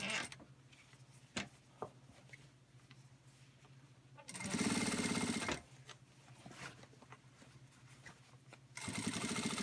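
A Singer industrial sewing machine stitches a reversible bag, close and loud, in two bursts of rapid running separated by quieter handling and a few sharp knocks.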